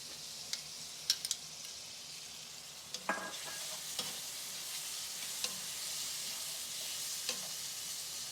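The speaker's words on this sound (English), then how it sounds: "Next, I'm going to add my can of drained chickpeas." Drained canned chickpeas hit a hot pan with a steady broadband sizzle, punctuated by a few sharp clinks and scrapes of stirring; moderately quiet and continuous with no talking.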